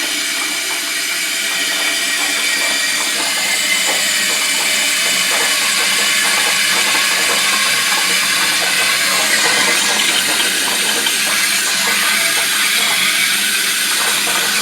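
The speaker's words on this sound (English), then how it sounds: "I hear it bubbling now." Water fills a Rheem hybrid water heater during installation, giving a loud, steady hiss and rush with bubbling that runs on without pause and without any talk.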